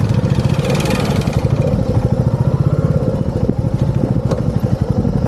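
A motorcycle ridden over a rough, broken road on an adventure ride to Nagarkot, Nepal, its mid-pitched engine chugging and revving steadily and up close throughout, with clattering from the bumpy surface and no talk.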